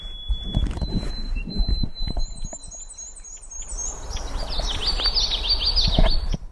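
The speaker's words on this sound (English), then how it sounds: "witchetty, witchetty, witch, common yellowthroat" Outdoors on a Maine trail, a common yellowthroat sings a repeated rolling phrase in quick bursts at moderate distance, following a thin high whistle and footstep-like rustling.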